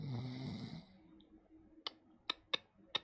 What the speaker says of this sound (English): Oh, I heard a snore.